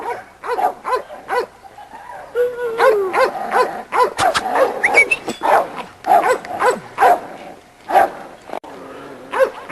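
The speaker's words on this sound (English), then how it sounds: "This is our little Sadie Dog right here." Sadie, a small yard dog, barks and whimpers in a close, loud run of sharp yips and whines, with brief pauses between bursts.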